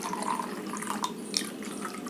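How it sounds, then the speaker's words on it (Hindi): Water is poured into a container for a simple chemistry demonstration, a soft, faint, continuous trickle and splash heard alone, without talk. "इसमें ले रहे हैं पानी।"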